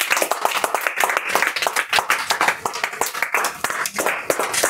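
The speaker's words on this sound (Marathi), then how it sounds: "टाळ्या वाजत त्यासाठी." Classroom of fifth-grade students clapping together in a brisk, continuous burst of applause, close and loud, lasting a few seconds.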